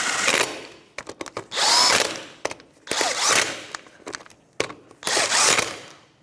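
A power tool with a 19mm socket snugs up the four lug nuts on a 2005–2010 Chevrolet Cobalt wheel in short, repeated whirring bursts separated by brief pauses, close and loud.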